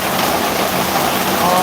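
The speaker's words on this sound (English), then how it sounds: "Let people tune in, listen to the rain." Steady rain pours in Ban Chang, Rayong, Thailand, a dense even hiss of falling water, close and loud with no break.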